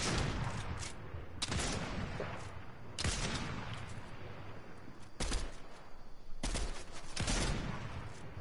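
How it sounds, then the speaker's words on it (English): Bursts of gunfire from a non-player character in a video game, several loud broadband volleys spaced a few seconds apart over a continuous noisy game background. "Oh, someone's shooting"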